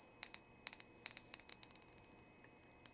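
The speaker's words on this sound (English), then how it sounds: "And I shall ring the bell 3 times in their honor." A small bell rung in a Beltane ritual offering, bright metallic rings struck three times and left to ring out and fade, close and clear, with no talk.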